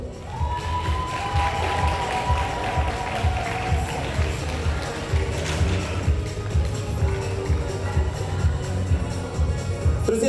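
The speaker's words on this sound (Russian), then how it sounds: "Я предлагаю поаплодировать." Audience at the Pearl of the Sea 2018 award ceremony in Anapa applauds and cheers steadily, a dense wash of clapping that carries on throughout with faint background tones.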